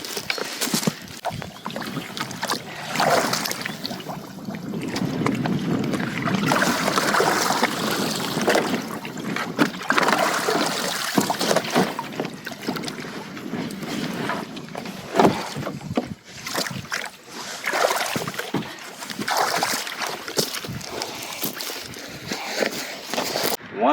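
Small boat on the water during a beaver trapping run, a continuous rush of water and hull movement with splashes and knocks, close and fairly loud, sometimes over faint voices.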